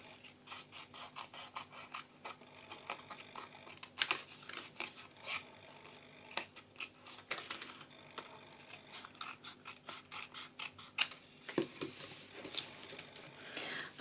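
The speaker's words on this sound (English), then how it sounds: "and then you do cut off the bits that stick out." Scissors snip away excess card around a glued-on panel, giving a run of close, quiet crisp cuts and scraping paper sounds in an uneven rhythm with no talking.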